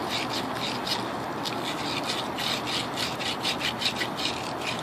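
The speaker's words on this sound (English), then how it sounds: "So you keep sanding both sides." Abrasive cloth rubbed back and forth over a copper pipe fitting in preparation for soldering, a steady close scratchy rasp with quick repeated strokes, running continuously with no talk.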